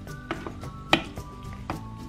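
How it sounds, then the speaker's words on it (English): Strawberries being mixed into yogurt in a bowl for a homemade dog ice cream cake, a few scattered spoon taps and soft scraping clicks, close and sparse. "now my assistant is going to mix the strawberries in the yogurt"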